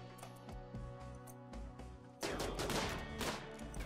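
Rapid gunfire in RimWorld, faint crackling shots at first, then a denser, louder burst of firing over a steady game music bed.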